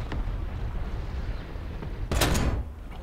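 A single loud, close tank cannon shot in War Thunder on a Tunisia map, a sharp broadband blast that rings for about half a second over a low rumbling engine bed.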